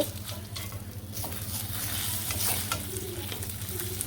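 Pakora fritters frying in oil, a continuous dense sizzle with a soft bubbling undertone and occasional faint clinks, close and steady throughout, no talking.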